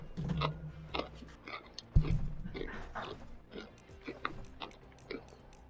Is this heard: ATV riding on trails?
no